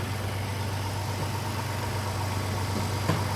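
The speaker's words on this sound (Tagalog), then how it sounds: "May galit na yung makina." A Toyota FJ Cruiser engine idles with its catalytic exhaust refitted, a steady, close low rumble with no talk over it.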